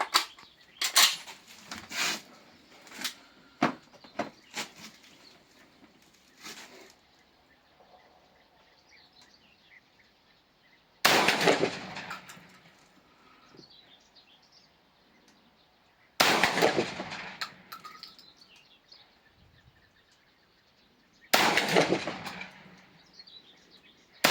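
Three loud, sharp 12-gauge shotgun blasts firing Federal TruBall Deep Penetrator rifled slugs, spaced several seconds apart, each with a ringing tail, following a stretch of softer clicks and handling noises.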